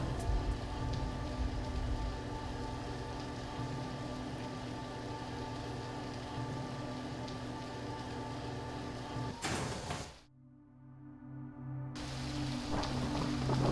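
Steady rain pours across the rp_Downpour map in Garry's Mod, a constant broadband hiss that cuts out abruptly near the end, leaving a low hum and faint patter for a couple of seconds before the downpour swells back in.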